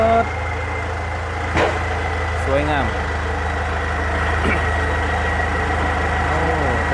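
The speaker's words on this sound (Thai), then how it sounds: "วันนี้ได้มีโอกาสครับมาปล่อยรถไถสิ่งครับ" A Kubota MU62 tractor engine with a racing exhaust idles with a steady low rumble, with brief louder bursts from the exhaust and a voice speaking over it now and then.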